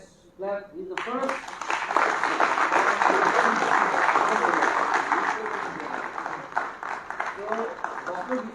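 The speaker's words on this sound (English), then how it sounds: "Let's clap." An audience at a SYNAPSE 2025 academic event bursts into sustained applause right after a brief spoken announcement, the dense clapping swelling and holding for several seconds before easing as a voice returns.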